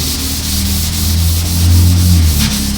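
Primer on a car deck lid is wet-sanded by hand in a steady back-and-forth rubbing rhythm, close and fairly loud with no talk.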